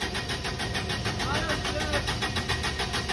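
A truck engine at an unloading site revs in a steady, loud rumble with pulsing throttle, while people talk over it throughout.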